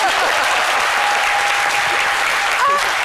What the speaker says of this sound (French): là, on applaudit parce qu'on est en joie, n'est-ce pas?